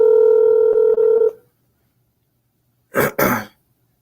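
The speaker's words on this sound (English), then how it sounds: "So you heard the phone ringing" A phone call rings out with a steady electronic ringback tone pulsing briefly for over a second, then stops; after a silent pause, two short, noisy bursts like a throat clearing follow close by.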